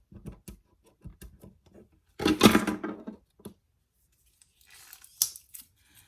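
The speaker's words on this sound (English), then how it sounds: "let me get my scissors" Close, crisp snips of scissors cutting open packaging come in short bursts, with crinkling plastic and rustling in between and quiet gaps of near silence.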